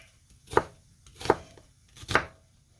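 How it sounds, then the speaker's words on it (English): A knife chops through an onion on a board, cutting it into chunks: three distinct, evenly spaced chops, close and clear, with no talking. "And we're just going to cut it in chunks."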